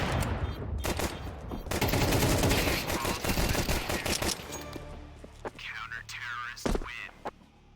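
Rapid Glock pistol fire in a Counter-Strike 2 match, dense bursts of sharp shots for about four seconds, then scattered shots and game effects as the firing thins out.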